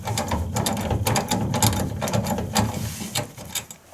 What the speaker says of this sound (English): Just gotta get that ratchet tight here